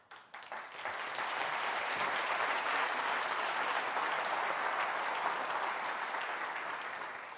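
Sustained audience applause at a business conference on customer success, building quickly from scattered claps into a full, steady wash of clapping that holds evenly and tapers slightly at the end.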